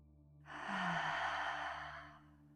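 A single slow, deep breath during a gentle yoga session for period pain: a long, soft airy exhale that swells and fades over about two seconds, close and alone against a faint steady hum.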